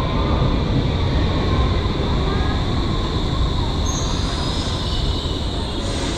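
A subway train in a Berlin U-Bahn station at Brandenburger Tor, loud continuous rumble of rolling wheels with a sustained high metallic squeal from the rails, close and unbroken throughout.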